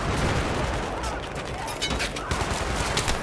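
Gunfire in the Battlefield 3 video game, Operation Swordbreaker mission, as dense continuous automatic bursts with booming impacts, loud and close throughout.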